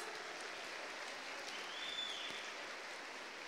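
Church congregation applauding at a revival conference, a steady, dense wash of clapping that holds evenly throughout with no voices on top.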